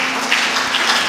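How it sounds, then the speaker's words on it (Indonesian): A church congregation applauds in praise, a dense, steady wash of clapping heard up close and loud, with no speech over it. "tepuk tangan untuk Tuhan."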